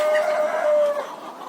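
A Tiger breed rooster crows loudly and close with one sustained call, trailing off into softer clucking.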